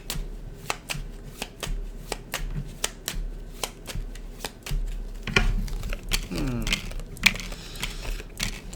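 Tarot cards are shuffled close by, a regular run of crisp riffling snaps followed by a denser flurry of card flutter and handling noise, with no talk.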